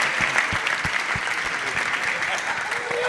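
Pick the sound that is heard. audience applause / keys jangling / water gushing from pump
audience applause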